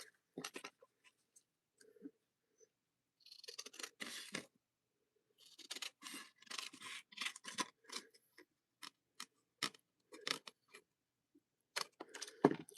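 Scissors snip and cut during a live craft session, with sparse clicks followed by bursts of crisp snipping and rustling, close and fairly quiet, with no talking.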